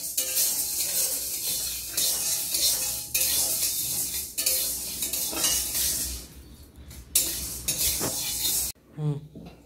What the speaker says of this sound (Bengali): এই যে ডালগুলো একটু ধুয়ে নিলাম